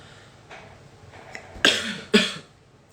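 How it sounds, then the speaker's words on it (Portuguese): Two sharp coughs from a nearby adult, a short one followed by a stronger one about half a second later, standing out against a quiet room with no talking. "De vez em quando eu vou dar uma tossidinha"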